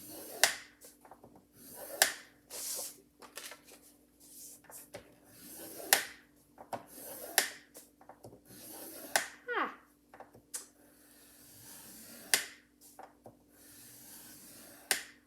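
A scoring tool is run across paper on a scoreboard while making a mini album, producing close, sharp clicks and short scratchy strokes at irregular intervals, with soft talking at times.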